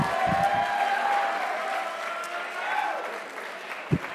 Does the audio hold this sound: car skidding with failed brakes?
no